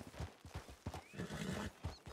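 A horse on a ranch whinnies amid rhythmic hoof clip-clops, the neigh and hoofbeats close and fairly clear, with no voices.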